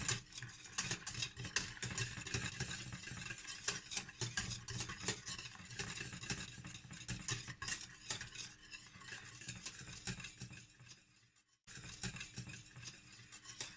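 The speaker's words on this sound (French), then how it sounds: "Je mélange bien tout ça." A béchamel and spaghetti mixture is stirred steadily in a pan, giving continuous scraping and sloshing utensil sounds with a light sizzle. The stirring runs close and fairly loud, pauses briefly near the end, then starts again, with no talk.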